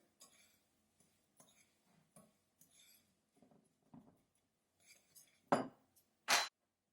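Psyllium and other ingredients stirred in a bowl for gluten-free seed bread, with light scattered clinks and scrapes of utensil on the bowl, then two louder sharp knocks near the end.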